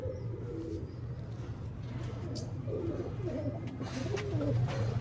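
A pigeon from a crossbreed loft coos in low, rolling repeated phrases close by over a steady background murmur.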